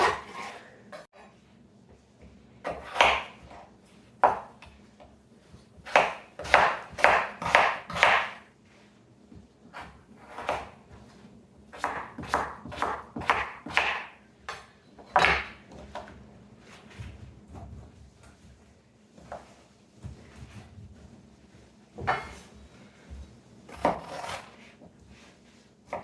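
Knife chopping vegetables on a cutting board at home, bursts of rapid sharp chops separated by pauses, close and clear.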